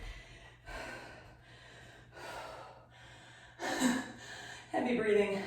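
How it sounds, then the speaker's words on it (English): Heavy panting breaths during a home workout come in several separate bursts, each a loud, rough gust of air, with the last two sharper and stronger. No words are spoken. "Heavy breathing. I'm working hard."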